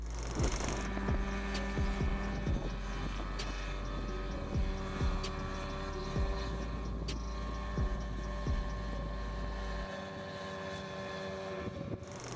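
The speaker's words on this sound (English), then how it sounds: "Ultralight helicopters. The Mosquito XEL." A Mosquito XEL ultralight helicopter's engine drones steadily with a rotor's rhythmic thump, fairly close and loud, fading slightly near the end; no voices.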